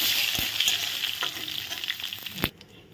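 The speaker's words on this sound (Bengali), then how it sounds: "ফোড়নের তেল গরম হয়ে গেছে, দুটো তেজপাতা, 4টে শুকনো লঙ্কা আর গোটা জিরে দিয়ে দিলাম।" Bay leaves, dried red chillies and whole cumin seeds frying in hot oil for a Bengali tempering, a steady close sizzle with a few stirring clicks that fades near the end.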